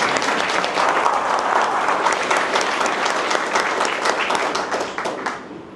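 Audience at a talk in Akola breaks into loud, sustained applause, dense crowd clapping that holds steady and then tapers off toward the end.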